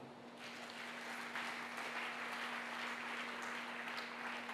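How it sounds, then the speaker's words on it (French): Church congregation applauding during a sermon, a steady dense wash of clapping from many hands that holds at an even level throughout, with a faint constant hum beneath. "Acclamez pour lui."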